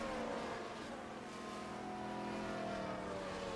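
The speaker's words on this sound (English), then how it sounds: "The safety car does have a very different sound to it," The safety car's engine in the F1 Manager 2024 racing game gives a continuous, steady drone with a slowly shifting pitch, holding at an even, moderate level throughout with no talk.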